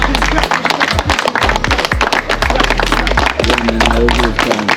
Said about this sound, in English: I will give them another round of applause